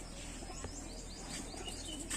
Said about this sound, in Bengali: এই নেক্সট মাদা পায়রা।